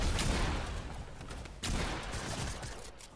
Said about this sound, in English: He pulled out the SMG quick on me